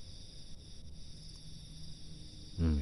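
Field crickets chirp in a rice paddy at night, a steady faint high trill running continuously with a soft thump near the end, no voices.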